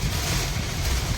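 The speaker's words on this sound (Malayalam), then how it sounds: "കാറ്റ് കൊടുങ്കാറ്റൊക്കെ ആണെന്നാണ് തോന്നുന്നത്." Strong wind from a heavy rainstorm buffets a car driving along a road in Saudi Arabia, a loud continuous roar of rushing air and rain noise with no break.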